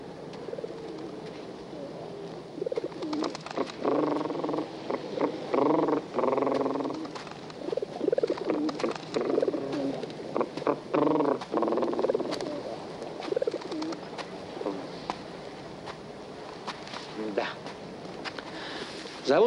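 Pigeons coo repeatedly in rhythmic bursts, moderately close, with a few brief pauses between calls and faint background noise.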